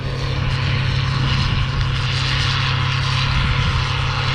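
A combine harvester working through a soybean field at about 8 km/h, heard from inside or close by as a loud, constant engine drone with a deep steady hum.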